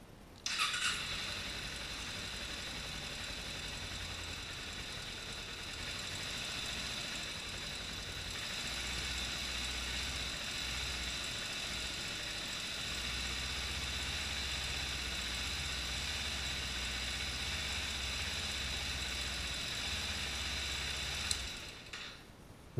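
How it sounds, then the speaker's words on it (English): A 2011 Kawasaki Ninja 250 motorcycle engine idles steadily nearby during a coolant flush, a continuous low mechanical hum with a faint high whine, holding an even level for about twenty seconds with no talking. "turn on the motorcycle and squeeze the hoses as the fluid runs through the system"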